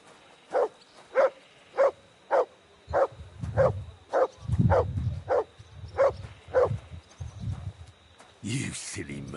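A dog in the video game Kingdom Come: Deliverance II barks about ten times in a steady, evenly spaced rhythm, close and clear, with rustling movement and a voice partly overlapping the later barks.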